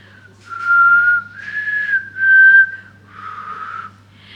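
A person whistles a short tune alone, a clear high melody in four or five phrases with short pauses between them and a faint hum underneath.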